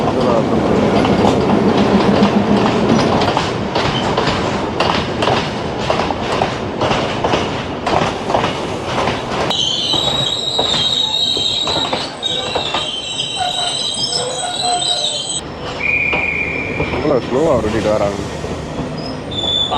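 A train rumbles along the rails close by at a railway station in Jaffna, Sri Lanka, with rhythmic clacking, then high metallic wheel squeals ring out over the steady roar.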